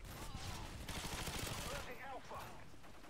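Sustained machine gun fire from an MG4 in a shooter video game, a steady rapid rattle at close range lasting throughout, with a player talking over it.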